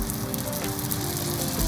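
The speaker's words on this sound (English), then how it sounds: "And into some hot oil they go, 1 at a time, slowly and carefully until they're all fried crisp" Egg rolls deep frying in hot oil give a steady, close crackling sizzle that holds evenly throughout, with no voices.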